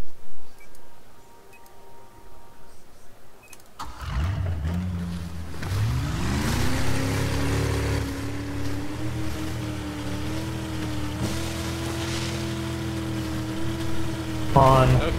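Quiet at first, then a motorboat engine in the video game Battlefield 4 starts and drones steadily with a rising pitch, water splashing around it and a brief louder burst near the end.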